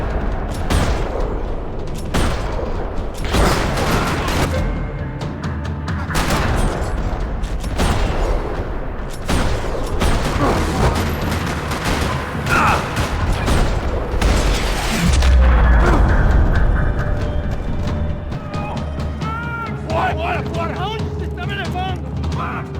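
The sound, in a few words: gunfire in parking lot, Max Payne 3 video game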